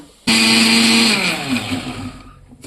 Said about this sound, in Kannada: ಇದನ್ನ ಜಾರ್ಗೆ ಹಾಕ್ಕೊಂಡು ರುಬ್ಕೊಳ್ಳೋಣ